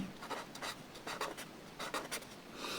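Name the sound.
writing and crossing out numbers on paper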